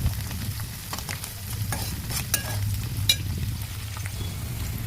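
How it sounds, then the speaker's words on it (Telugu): Onions fry in a pan toward golden brown for chicken fry, a steady crackling sizzle with a low hum beneath and occasional sharp clicks of a utensil. "గోల్డ్ కలర్ వచ్చేంత వరకు ఉల్లిగడ్డ అనేది మంచిగా ఫ్రై చేసుకోవాలి."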